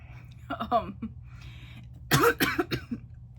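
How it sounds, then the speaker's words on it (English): Several rough allergy-season coughs come in two bursts, the second louder and harsher, with a brief pause between them. "Sorry, short coughing fit break because it's allergy season"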